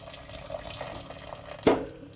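Two litres of water are poured into a soup pot for Portuguese cabbage soup, a soft running splash with gentle bubbling and a brief louder slosh near the end.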